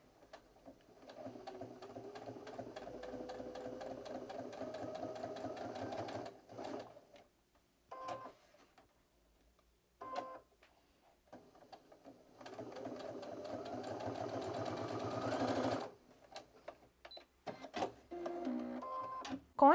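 A domestic sewing machine stitches close along the edge of a small fabric strap for a little bag, running in two steady bursts of rapid mechanical whirring with a brief pause between, close and fairly loud.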